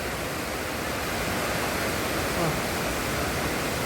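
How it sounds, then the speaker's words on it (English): Hat Yai waterfall cascading down a steep, tree-surrounded cliff, a constant broadband rush of falling water heard close and steady, with a brief exclaiming voice over it. "I think it's the most beautiful waterfall in Hat Yai."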